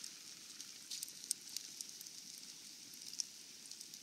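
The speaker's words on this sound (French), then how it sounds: "Ça sera juste à gratter un petit peu le steak, mais ça cuit vraiment bien." Steak cooking directly on an open campfire in snow, giving a soft, steady crackle and sizzle with scattered sharp pops, faint and fairly close, with no talking.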